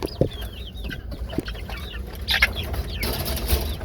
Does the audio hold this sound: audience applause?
no